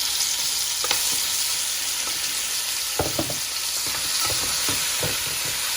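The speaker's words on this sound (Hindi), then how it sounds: "तो इसको थोड़ा सा भून लेते हैं" Mutton pieces, about a kilo and previously deep-frozen, sizzle steadily in a pan for a restaurant-style korma, with scattered scraping stir strokes clustered in the second half and no talking.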